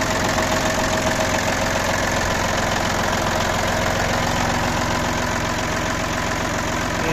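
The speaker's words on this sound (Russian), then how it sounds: "Мотор трехцилиндровый." The three-cylinder diesel engine of an Iseki TU155 mini tractor idles steadily and close by, its low, even chugging continuing without a break from start to finish.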